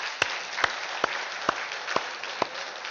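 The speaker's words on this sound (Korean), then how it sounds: "우리 선생님께 박수 한번 올려주시죠." Faint, slow rhythmic clapping from a church congregation, six evenly spaced crisp claps at roughly half-second intervals, over a quiet room background.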